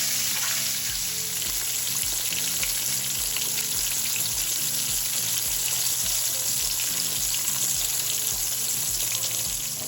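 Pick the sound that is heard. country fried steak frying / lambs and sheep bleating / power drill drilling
country fried steak frying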